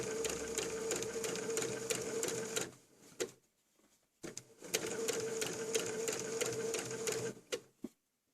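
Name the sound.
sewing machine stitching a cushion zipper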